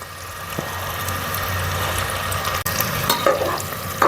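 Onions fry in hot oil with a steady, close sizzle and occasional stirring scrapes and clinks of a utensil against the pan.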